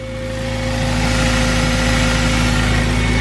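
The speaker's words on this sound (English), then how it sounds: "it sounds really nice. Sounds really nice, idling's really nice" A swapped Honda K20 engine idles in a salvage Civic after installation, a close, steady, loud drone with a constant tone that rises slightly in the first half second and then holds evenly, with no talking.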